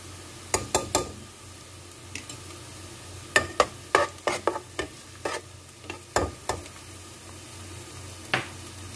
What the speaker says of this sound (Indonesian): Langkah pertama, tumis bawang bombay. Masukkan bawang putih.